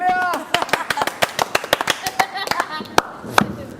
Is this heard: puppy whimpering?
no